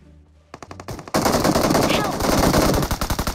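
Rapid gunfire in a video game, a sharp burst after a brief quiet start, then a dense, loud run of repeated shots that keeps going to the end.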